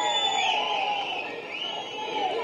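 Crowd cheering and shouting as DK Shivakumar arrives on stage at a Congress party meeting in Bidadi, a steady dense roar of many voices with whoops, loud and continuous, no clear clapping.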